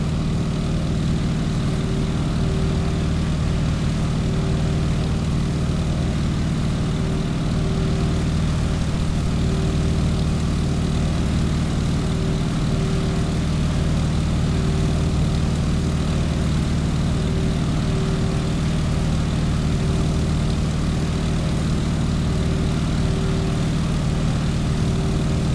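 A propeller airplane engine idles with the throttle pulled back in Microsoft Flight, a steady, loud, droning hum with a low tonal whine that runs unbroken for the whole stretch, with no voices.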